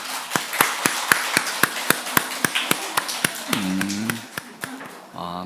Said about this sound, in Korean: 우리 두 아이 위해서 좀 축복의 박수를 한번 보내주면 좋겠습니다